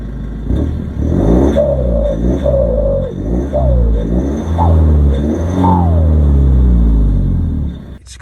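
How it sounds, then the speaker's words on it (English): A Mahindra diesel ute with a modified exhaust revs hard and rumbles loudly, rising and falling in pitch several times, with a faint high turbo whistle above the deep exhaust note. "got just enough note so you can hear it, hear a little bit of turbo whistle"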